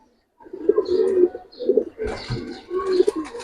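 Giribaz pigeons coo in repeated low, throaty phrases, close and fairly loud, with short pauses between bursts and some rustling from the birds being handled.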